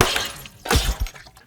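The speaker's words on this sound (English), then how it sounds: "Shattering glass and splashing echoed through my home" Glasses of water shatter and splash indoors, a loud crash of breaking glass followed by a second smaller impact and scattering tinkles, close and unaccompanied by speech.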